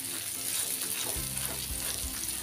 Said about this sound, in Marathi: आता मंद आचर आपल्याला एक 5 मिनिटासाठी ही सुरमई आहे फ्राय करून घ्यायची.